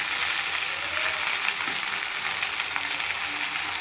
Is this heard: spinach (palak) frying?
yes